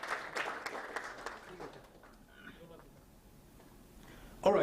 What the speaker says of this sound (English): Once again, a great round of applause for Naveen Kumar